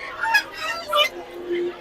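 Ducks at a busy live-poultry market in Tongi give several short, nasal honking calls close by, in a loose rhythm over a low background murmur.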